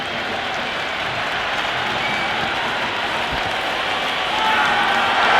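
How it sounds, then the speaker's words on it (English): A large cricket stadium crowd at a T20 match between England and India roars and applauds in a dense, continuous wash that swells slightly toward the end, with faint commentary beneath. "It's evident and ever so audible that the crowd is at near bursting point at today's play."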